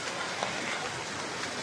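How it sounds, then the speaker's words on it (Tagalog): Steady rain hisses evenly throughout, a dense wash of patter with no voices. "Buti na lang humina na yung ulan."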